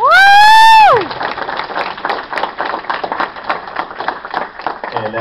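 Convention audience applauding staff, a scattered crowd of hand claps following a loud whoop, steady and moderately near, tapering slightly toward the end.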